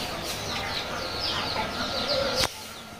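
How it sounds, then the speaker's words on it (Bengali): Tiger breed chickens at a poultry farm cluck in quick, fairly faint bursts over a steady hum, ending with a sharp click. "দেখতে পাচ্ছেন এগুলো আমার টাইগার মুরগি প্যারেন্টস।"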